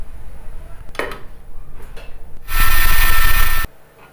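An electric spice grinder blitzes fennel seeds and cardamom into powder in a home kitchen, a loud steady whir lasting about a second after light clattering handling sounds, then stopping abruptly.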